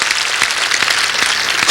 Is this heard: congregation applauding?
yes